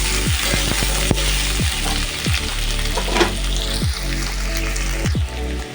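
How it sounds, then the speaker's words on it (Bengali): Diced potatoes and onions fry in hot oil with a loud, continuous sizzle, broken by several distinct scraping strokes as they are stirred, close up and without speech. "এখানে আলু আর পেঁয়াজটা দিয়ে দিয়েছি, এটা এবার নেড়ে নেবো, একটু ভাজা ভাজা করে নেবো।"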